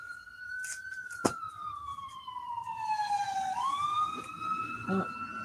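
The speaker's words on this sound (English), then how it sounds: "There goes an ambulance." An ambulance siren wails as it passes at a distance, its pitch sliding slowly down and then rising again over traffic rumble, with faint clicks nearby.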